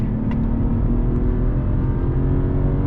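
A race car roars at full throttle on the Nürburgring, a loud, steady engine drone held close and constant from start to finish with no speech.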